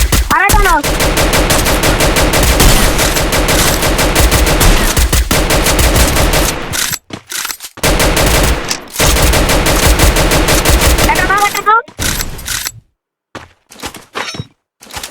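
Rapid automatic gunfire in a mobile battle royale game, dense bursts of shots and thuds with brief pauses between volleys, loud and close, with players talking over the shooting.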